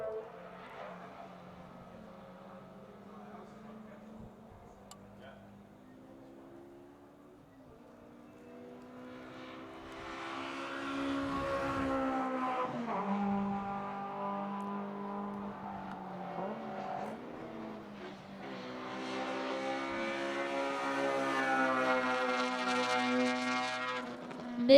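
An Acura TSX race car laps the track in a steady engine drone that rises and falls in pitch through gear changes, growing louder as it nears, with no talk.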